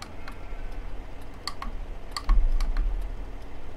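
Tractor turn indicators clicking off in Farming Simulator 2015, heard as a handful of sharp, irregular ticks over a low engine hum, with a brief louder thump partway through.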